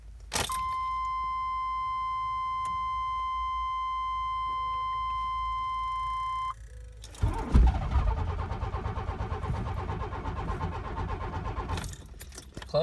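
A pickup truck engine cranks in the cold, turning over steadily for several seconds without catching. Before it, a steady electronic warning chime rings alone.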